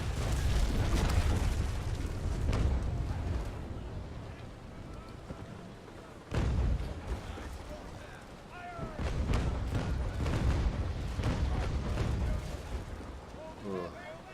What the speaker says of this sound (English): Not my perfect broadside.